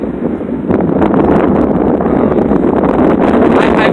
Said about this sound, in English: But it's real windy here.